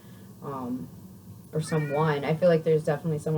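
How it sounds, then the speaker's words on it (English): A house cat meows for attention, one short cry early on, then a person talks steadily over the rest. "You have to excuse the cat. It keeps doing that until it gets attention"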